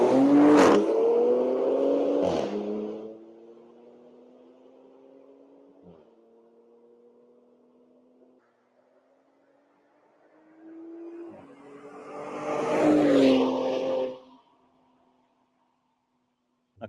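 A Ford truck's exhaust note while driving: loud revving bursts at the start and again near the end, with a steady lower engine drone between them, heard alone with no talking.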